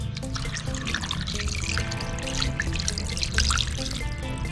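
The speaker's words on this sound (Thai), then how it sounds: "น้ำส้มสายชูครับ ใส่ลงไปเลย ตามด้วยน้ำเปล่าครับผม" Vinegar followed by plain water poured over raw catfish in a bowl for washing, a continuous splashing trickle with drips, fairly close and steady throughout.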